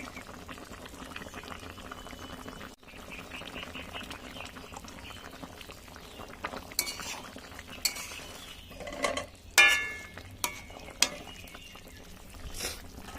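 Fried spice mix stirred into a bubbling rohu fish curry with potato and green banana in a pan, with steady simmering, clinks of a utensil against the pan and a few sharp scraping knocks toward the end.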